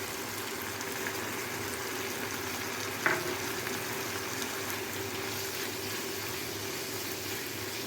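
Chicken with Chettinad masala fries in a pan with a soft, even, low sizzle that holds steady throughout, broken once by a brief light knock.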